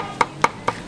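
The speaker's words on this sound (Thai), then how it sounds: "เราจะสับเลยจ้ะ" A knife mincing food on a board for an old-style Thai rolled rice noodle dish, four sharp, evenly spaced chops in quick succession, close and crisp with no talk.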